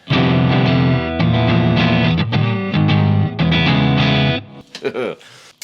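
A distorted electric guitar strums chords loudly, with open strings ringing and sustaining messily between strokes before a brief scrape and fade.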